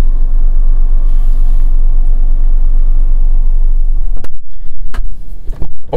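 The power liftgate of a Mazda CX-50 hums close by as its motor runs steadily. It ends in a few sharp latching clunks and clicks as the gate shuts.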